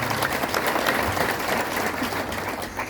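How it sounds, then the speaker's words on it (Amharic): A church congregation breaks into dense, sustained applause, close and even for a few seconds with no talking over it. "አጨብጭቡለት።"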